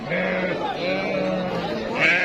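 Sheep at a livestock market in Nasr al-Nuba bleat loudly and close by, several overlapping wavering calls running continuously, with market bustle beneath.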